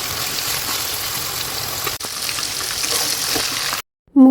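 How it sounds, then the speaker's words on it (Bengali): Chicken pieces fry in hot oil in a wok with a dense, steady sizzle that runs for nearly four seconds and then cuts off abruptly. "আগে আমি তেলে মুরগির মাংসগুলা ভেজে নেব।"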